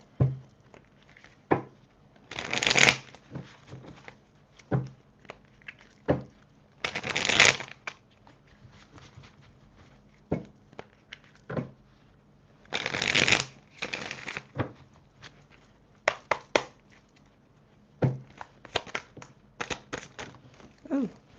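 Tarot cards are shuffled close up in several brisk riffling bursts separated by quieter taps and handling of the deck, with no talking.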